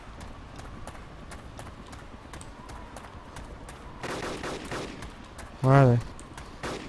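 Gunfire in the video game DayZ Epoch on the Namalsk map during a base raid: a rough burst of shots around the middle, then one loud close blast, with players talking over the shooting.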